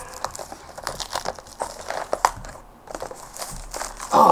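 A sharp zirconium blade slits open a Magic trading card booster box, producing close crinkling and crackling of plastic wrap and cardboard in uneven bursts, with a louder rustle at the end.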